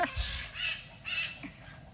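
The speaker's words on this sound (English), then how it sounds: "The birds are not happy." Upset birds at a wildlife sanctuary give harsh crow-like caws, three rough squawks spaced about half a second apart, fairly faint against a quiet background.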